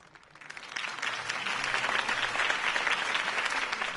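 Crowd applause after a political campaign speech in Telltale's Batman game swells within the first second and holds as steady, dense clapping to the end, with no talk over it.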